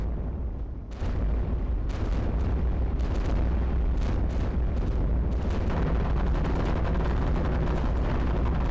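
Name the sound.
cannon fire in video game iBomber Defense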